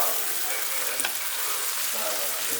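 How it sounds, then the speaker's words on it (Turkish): Purslane and onions sauté in hot oil, giving a loud, continuous sizzle close by, with a sharp utensil scrape against the pan near the middle. "Soğanla beraber kavuruyorum."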